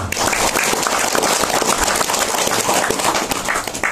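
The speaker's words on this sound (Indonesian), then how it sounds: "Tepuk tangan buat semuanya." Applause for everyone at a large religious dhikr gathering: dense, loud crowd clapping that runs steadily throughout with no talking.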